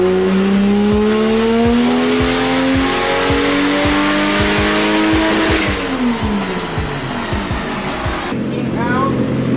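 A turbocharged Toyota Supra with an eBay turbo revs on a dyno with its boost turned up; the engine climbs loudly in pitch with rapid crackling pulses, peaks, then drops off and falls quiet near the end.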